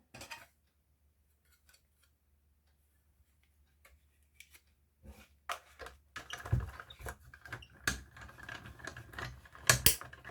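A Sizzix die-cutting machine cranks two Perspex plates with card through its rollers, a near run of clicking, clattering mechanical ticks that starts faint and sparse, then grows denser and louder.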